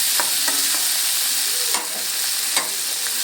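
Spice paste and fresh coriander fry in hot oil in a pan for a fish curry. A steady, close sizzle is broken by a few sharp stirring scrapes and clinks of the spoon, with no talk.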